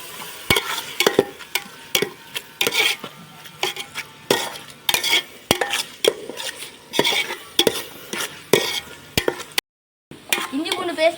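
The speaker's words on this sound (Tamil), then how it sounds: "இஞ்சி பூண்டு பேஸ்ட் நல்லா வதங்கிருச்சு" Ginger garlic paste frying in a pan with frequent sharp spoon scrapes and clinks against the metal, over a steady background sizzle, with a brief silent gap near the end.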